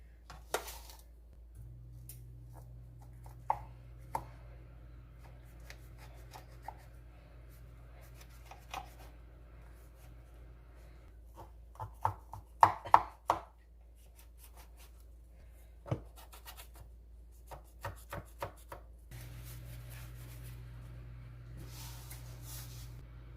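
Baklava, pistachio, is cut into diamond-shaped slices: sparse knife taps and scrapes through the layered pastry, with a tight cluster of sharper cuts in the middle, over a low steady hum.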